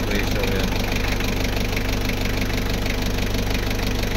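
Air-conditioning compressor running on an L300 van engine during a freon recharge, a continuous close mechanical drone with a steady low throb that never changes level.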